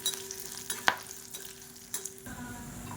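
Cumin and dried red chillies fry in a pan over medium heat for a spicy chutney, a soft steady sizzle broken by a few sharp scrapes and clinks of a spoon stirring.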